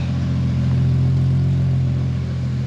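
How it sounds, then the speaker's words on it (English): A car engine idles steadily up close, a smooth, even low hum with a constant pitch and no revving; a Nissan RB engine with a Haltech Elite ECU, after fixing trigger issues. "Now we're back to it idling properly."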